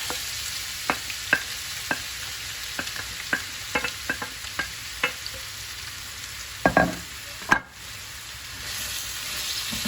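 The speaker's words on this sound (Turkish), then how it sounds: "Böyle soğanını kavuracağız." Onions frying in a pan for mujaddara pilaf, a steady sizzle broken by a run of sharp clacks and scrapes as they are stirred, loudest in a short burst near the end, with no talking.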